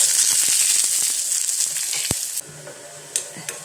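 Busy frying sizzle with crackles and pops as shallots fry in coconut oil after popping mustard seeds, stirred now and then, easing to a quieter sizzle near the end.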